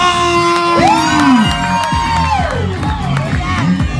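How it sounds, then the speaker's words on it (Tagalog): Audience at a gay beauty pageant cheering and shouting with whoops, a loud, close crowd of voices rising and falling over several seconds. "isa munang masigabong palakpakan na may sigawan!"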